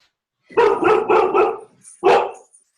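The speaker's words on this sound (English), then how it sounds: "Sorry, my dog." A dog barks at someone at the door: a close, loud run of four quick barks, a short pause, then one more bark.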